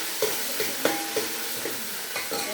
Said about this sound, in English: I'm only going to saute the tomatoes just a bit.